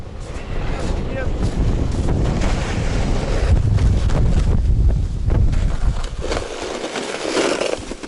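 Strong, gusty wind roars and buffets the microphone across open water in bad weather, a constant loud rush with surging peaks, while checking pike tip-ups; voices are faintly mixed in.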